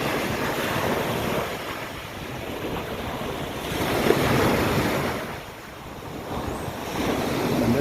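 Rough sea waves surge and wash in steadily at Payoon Beach, Ban Chang, Rayong, Thailand, swelling louder midway before easing back, with wind buffeting the microphone throughout.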